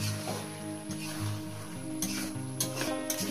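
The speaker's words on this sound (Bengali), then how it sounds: "তো বন্ধুরা দেখুন কত সুন্দর করে কষা হচ্ছে মাংসটাকে" Country chicken sizzles as it is stir-fried down into a thick curry in a pan, with a low, steady frying hiss and occasional scrapes of the utensil against the metal.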